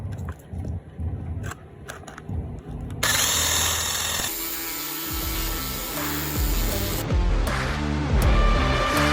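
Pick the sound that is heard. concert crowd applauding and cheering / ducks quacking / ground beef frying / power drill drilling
power drill drilling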